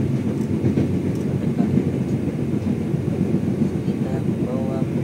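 KA Madiun Jaya train with modified new-generation executive carriages, running with a steady loud low rumble and faint rail clatter, people talking throughout.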